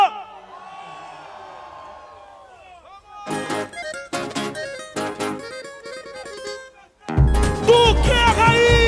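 A carnival samba school crowd at the Anhembi parade grounds: an amplified singing voice is followed by loud shouting bursts, then a big surge of cheering and drumming at the end.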